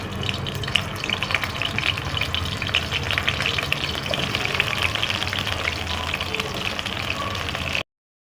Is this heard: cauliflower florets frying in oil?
yes